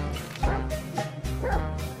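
A dog in the video game GTA 5 gives two loud, close barks about a second apart over a steady low background hum.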